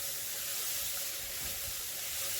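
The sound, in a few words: chopped onion with turmeric and salt frying in hot oil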